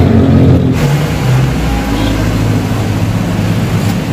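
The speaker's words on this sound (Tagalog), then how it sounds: "Ipapasok lang ni Jeff saglit yung kotse." A car engine idles and rumbles loudly up close as the vehicle is driven in to park in the rain, a steady, dense roar with a brief shift of tone near the start and no talk.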